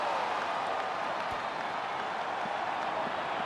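Stadium crowd at an AFL football match between the Brisbane Lions and Geelong, a steady loud roar of many voices filling the whole stretch without letup.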